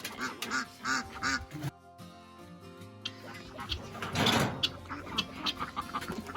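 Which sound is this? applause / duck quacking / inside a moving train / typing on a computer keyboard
duck quacking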